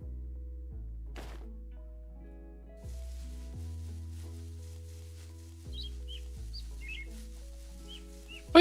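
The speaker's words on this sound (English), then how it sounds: "I don't see birds, but I heard them." Small birds in the blocky survival game Origin Realms give scattered short chirps, faint and high, over steady low background music, with no talking.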